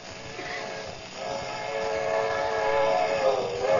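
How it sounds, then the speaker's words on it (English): A passing train staged as a radio-show sound effect, a steady rumbling rail roar with tonal whistle-like hum that swells gradually louder over a few seconds, heard alone. "There's a train coming."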